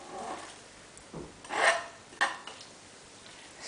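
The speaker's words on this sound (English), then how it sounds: "stir that around" A pot of prawn and sea bass soup being stirred, a utensil scraping and knocking against the pot in a few short separate strokes, close and fairly quiet.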